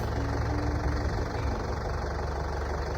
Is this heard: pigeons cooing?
no